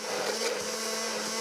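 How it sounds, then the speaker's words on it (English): An immersion blender whirs continuously at steady speed for a brief moment, close by in a home kitchen while vegetarian Italian food is made, with no talk over the hum. "It's an immersion blender."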